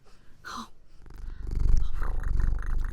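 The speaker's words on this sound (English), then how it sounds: "He just purrs all the time." A cat purrs loudly and close by in a low, rhythmic rumble, after a brief higher sound at the start.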